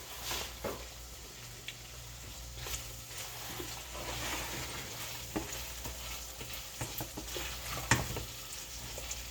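Okra stirring and frying in a skillet: a steady close sizzle with scraping stir strokes scattered throughout, and a sharper clatter near the end.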